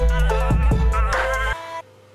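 A processed vocal runs through a fully wet delay in FL Studio, the dry voice removed so only dense, smeared echoes remain, loud and continuous before cutting out abruptly near the end.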